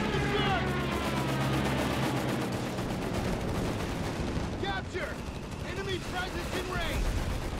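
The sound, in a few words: mortar firing in the video game Company of Heroes 3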